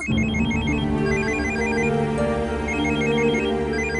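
Telephone ringtone for an incoming call, a repeating electronic melody of bright beeping tones over a steady lower chime pattern, loud and continuous for several seconds with no voices.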